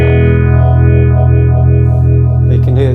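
A loud, sustained distorted guitar chord through a Roland Cube 40XL amp, with its phaser effect sweeping slowly and swirling through it, ending in a brief scrape.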